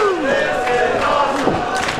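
A sold-out dome crowd at a wrestling event roars and cheers steadily throughout, with scattered shouts rising out of the dense, continuous wash of noise.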